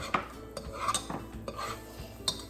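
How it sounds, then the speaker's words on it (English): A spoon stirs a melting mixture in a hot pot, scraping and clinking against the sides in irregular strokes, close and moderately loud with no voices. "All right, keep stirring."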